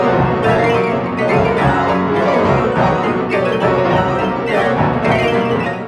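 Dense digital piano chords are matched to the frequencies of the vocals in a song, forming a loud, continuous wash of rapid notes that mimics a singing voice without any real singing.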